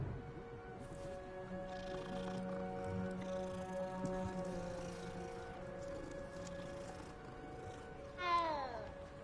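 A cat meows once near the end, a short rising-falling cry heard in the Hogwarts Legacy video game over a quiet ambient drone of soft tones.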